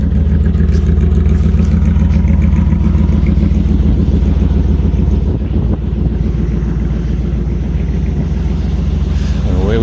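A 1977 all-original custom Chevy van cruises along: a steady, loud engine drone with a constant rush of wind noise, continuous for the whole stretch with no talking.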